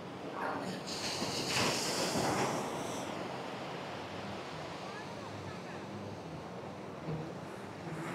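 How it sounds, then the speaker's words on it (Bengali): Rough surf at Cox's Bazar beach roars in a continuous broad wash, with a louder surge early on and wind buffeting the microphone throughout. "কি সমুদ্র, কি গর্জন বন্ধুরা। দেখুন কি গর্জন, কি ঢেউ"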